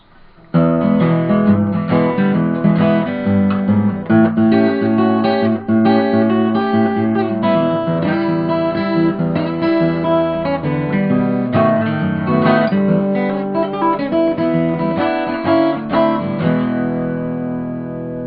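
A fingerpicked acoustic guitar plays a lively blues passage alone, with a steady bass thumb under bright syncopated treble notes.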